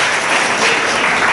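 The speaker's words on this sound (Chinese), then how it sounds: "拍手给耶稣" Dense, loud clapping from a church congregation during a Sunday worship service, an even wash of many hands filling the whole moment without speech.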